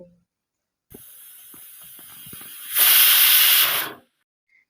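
A pressure cooker boiling young jackfruit with water and turmeric lets off steam: a moderate hiss builds, then a louder, forceful jet of steam blasts for about a second before cutting off abruptly.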